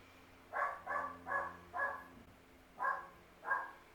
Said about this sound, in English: next door's dog is barking